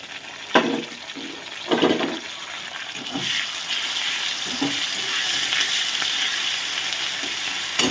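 Ginger-cumin paste hits hot oil with a few sharp splashes, then settles into a steady sizzling hiss with scattered stirring sounds, close and fairly loud.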